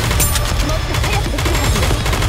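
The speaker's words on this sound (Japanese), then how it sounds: "前方門開放、一斉射撃。" Volleys of rapid gunfire from Goddess of Victory: Nikke, a dense, loud, continuous barrage of overlapping shots and booms with no gaps, layered over low rumbling battle noise.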